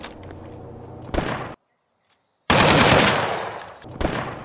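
Video game rifle fire rattles out in loud, rapid bursts, with a sharp gap of silence between a long volley and a later shot.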